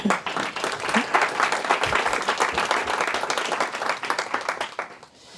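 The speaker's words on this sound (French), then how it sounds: "Vous pouvez vous applaudir pour ça, s'il vous plaît." Attendees at a LyonJS JavaScript meetup break into warm applause, a dense, sustained burst of many hands clapping nearby that tapers off at the end, with a few voices faintly underneath.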